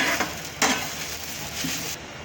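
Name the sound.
dry-roasting coconut masala in a pan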